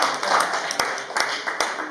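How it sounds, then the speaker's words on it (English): Scattered audience clapping for a shy performer at an open mic night, a few sharp claps standing out over a soft bed of handclaps and murmuring voices for under two seconds. "Clap it up for Jimiko."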